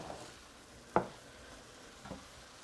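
Flour stirred into a pan sauce as a thickener for a mushroom gravy gives a quiet sizzle, with two soft scrapes of the spoon against the pan.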